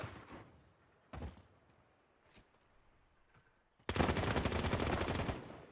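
Gunfight in Call of Duty Warzone: a couple of short distant gunshot bursts over quiet game ambience, then a loud sustained burst of rapid fire near the end.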